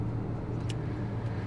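A car pulls up nearby on a roadside in Oman, its engine a steady low rumble with a brief higher hiss partway through, no talking.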